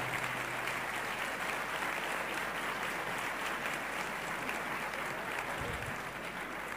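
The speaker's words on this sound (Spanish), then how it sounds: "Aplauso, por favor." Steady, dense applause from a conference audience after a panel of experts, even and continuous throughout, heard from a moderate distance.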